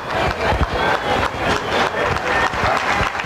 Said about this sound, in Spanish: La afición lo aplaude